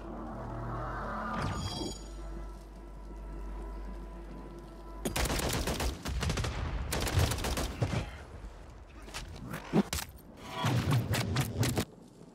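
A Holger-556 automatic rifle in Warzone fires sustained rapid bursts after a quieter lead-in. The loud, dense rattles stop and start in several volleys, with no talking.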